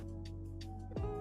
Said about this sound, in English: you want to use a whip whoosh sound effect,